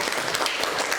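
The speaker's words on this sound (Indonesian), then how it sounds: "kita kasih aplaus dulu" A roomful of people claps for a group that has just finished its presentation, a brief dense burst of applause at steady loudness.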